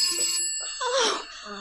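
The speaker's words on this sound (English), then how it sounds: "Oh, the phone's ringing." Telephone ringing as a radio drama sound effect, with several short bursts of bright electric bell rings in quick succession, close and clear, with no voices over it.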